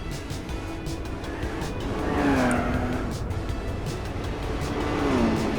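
Big Block Buick Custom braking hard in Gran Turismo 4, its tires squealing in drawn-out, wavering tones over a loud, steady engine and road roar, with repeated squeals across several seconds and no talk.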